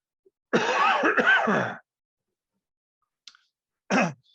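A burst of harsh coughing lasting over a second, followed after a pause by one more short cough, close and loud with silence between.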